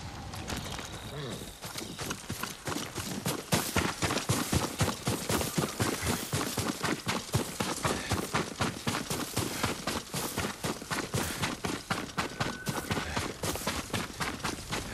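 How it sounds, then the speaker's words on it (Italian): Horse hooves clip-clop steadily and fairly close in the video game Ghost of Tsushima, a quick regular rhythm running throughout beneath ambient game sound. "Il cavallo di Yuriko è qui vicino."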